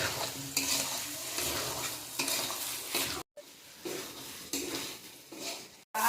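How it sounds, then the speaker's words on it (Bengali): Rice, dal and fried vegetables being sautéed and stirred in a pan for bhoger khichuri, with repeated scraping strokes over a soft sizzle, close, broken by two brief silent gaps. "ভেজে রাখা সবজি সব কিছু খুব ভালো করে কষিয়ে তারপরে পরিমাণ মতন জল দেবো।"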